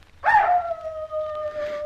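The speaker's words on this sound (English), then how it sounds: "I'll lay a tenner he howls any tick of the clock." A dog lets out one sustained howl that starts with a sharp rise and then holds a steady, drawn-out tone, fairly close and clear against a quiet background.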